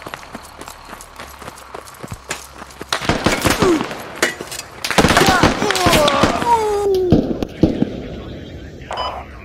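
Gunfire in the tactical military shooter Squad, with sharp cracks and clustered shots starting faint and growing louder and denser midway, mixed with scattered distant bangs and voices talking over it.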